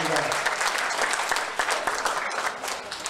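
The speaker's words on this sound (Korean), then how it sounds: "박수 부탁드립니다" Dense applause from an audience at an elementary school year-end party, with many hands clapping steadily for the full stretch and a murmur of voices mixed in.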